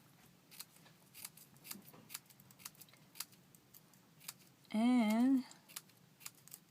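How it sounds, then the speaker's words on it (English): Scissors snip slits into mixed-media craft material for arrows, producing a series of quick, sharp, close cuts at an irregular rhythm. A voice speaks briefly in the middle. "I just put lots of slits, snip lots of slits into it towards the center."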